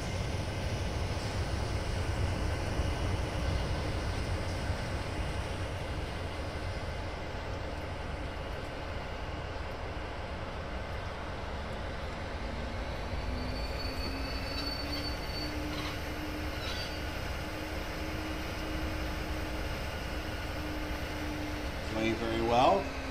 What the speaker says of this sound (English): Another train going by. That is a mixed freight train, 5250.